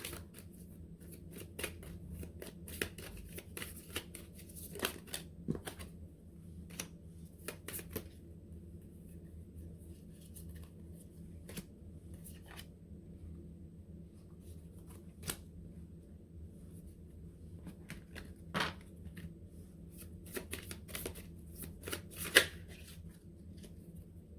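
Green Glyph Lenormand cards being shuffled: a continuous soft papery riffle with scattered light taps and snaps, steady and close, under a low background hum.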